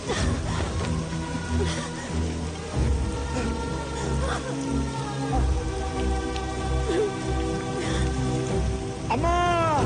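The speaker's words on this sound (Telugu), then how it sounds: "అయ్యో, వర్షం వచ్చేలా ఉందే." Rain falls steadily in an outdoor film scene, a dense patter on surfaces lasting throughout, with faint voices and tonal sounds mixed underneath.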